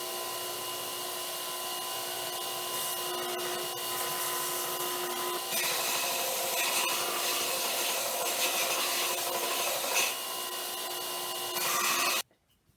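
A wooden trench club handle being sanded, a continuous close abrasive rubbing that runs steadily for most of the stretch and then stops abruptly near the end.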